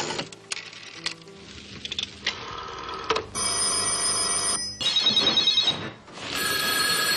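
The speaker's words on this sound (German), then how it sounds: "Kann wohl mal jemand an das verdammte Telefon gehen?" A telephone rings in repeated bursts of bright electronic and bell-like tones, loud and close, with varying ring patterns and no talking.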